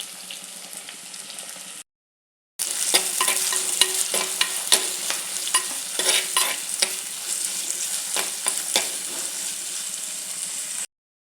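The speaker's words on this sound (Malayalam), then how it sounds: "കൊച്ചുള്ളി കൊച്ചുള്ളി സവാള പച്ചമുളക്" Shallots, onion and green chilli fry in hot oil for a fish head curry, giving a steady close sizzle with scattered stirring clicks, broken once by a short silence before the frying resumes.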